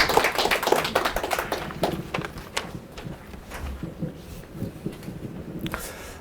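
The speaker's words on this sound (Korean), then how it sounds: "박수로 환영하겠습니다." A church pastor is welcomed to a community forum. An audience claps loudly at first and the clapping thins out and fades over several seconds, with a little faint voice noise near the end.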